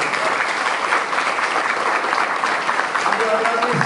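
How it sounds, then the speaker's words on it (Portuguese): Audience applause at a civic event honoring deputy secretaries, a dense, even burst of clapping that carries on steadily without letting up. "Queria uma salva de palmas também para os secretários adjuntos."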